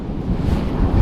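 Strong wind buffeting the microphone in a boat on open water during late-season bass and pike fishing, a steady low rumbling roar with surf-like wash, loud and continuous throughout.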